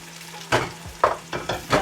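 A spoon stirs fenugreek seeds and spices frying in a pan for a Tamil chicken, aubergine and potato curry, giving several short scraping swishes over a soft steady sizzle, close and without talk.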